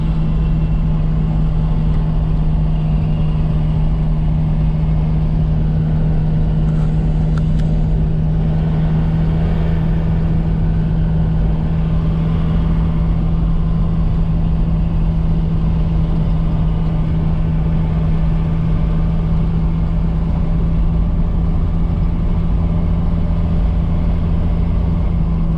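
A TDI diesel-swapped Toyota truck cruising uphill in third gear, its engine a loud, steady low drone with a constant hum that fills the cab, no voices over it.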